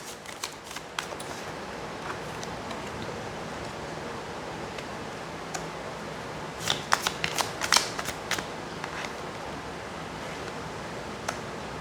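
A deck of tarot cards is handled and shuffled close by, with soft papery riffles and flicks over steady hiss, and a denser run of quick card snaps midway, with no one talking.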